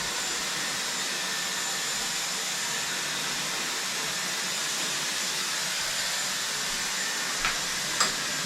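A pet blow dryer runs with a steady, even whooshing hiss throughout, close and constant, with no talking.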